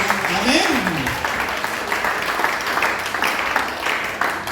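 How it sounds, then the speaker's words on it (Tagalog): Church congregation clapping loudly for the Lord after a sermon, a dense, steady wash of applause filling the room, with a voice rising over it at the start. "Lahat ng nagmamahalan, pumalakpak ng malakas sa ating Panginoon"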